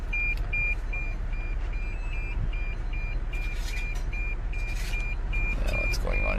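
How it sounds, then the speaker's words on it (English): A car's proximity sensor emits a steady series of short, regular electronic beeps, moderately loud inside the vehicle, over a constant low engine and road rumble in a drive-through queue. "What's beeping? Oh, because we're so close."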